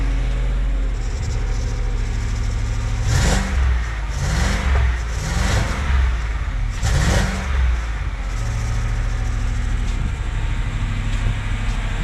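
A gasoline car engine runs rough on diesel fuel, a loud steady idle broken by several uneven lurches and stumbles in the middle, with no talking.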